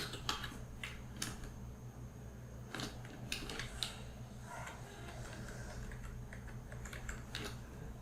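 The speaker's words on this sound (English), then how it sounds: "we will just simply type the name of the company" Typing on a computer keyboard while entering a company name into a graphic design program, heard as irregular bursts of light key clicks, close and fairly quiet, with short pauses between runs and no talking.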